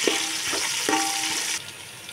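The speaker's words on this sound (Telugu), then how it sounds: "ఇప్పుడు ఉల్లిపాయలు, పచ్చిమిరపకాయలు గోల్డెన్ కలర్ వచ్చేంత వరకు వేగనివ్వాలి." Chopped onions and green chilies fry in a pan with a steady sizzling hiss, a few spatula scrapes and pops mixed in, before the sizzle drops off suddenly near the end.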